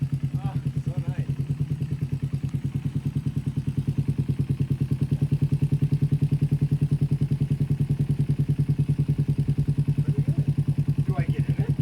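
A race lawn mower engine idles steadily with an even low throb and rapid regular pulsing, close and continuous throughout.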